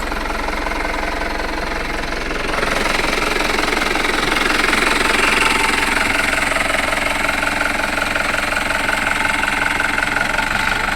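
A vehicle engine runs in Maddulapalli village, a loud, steady idling chug with a knocking rhythm that grows somewhat louder after a few seconds and continues throughout.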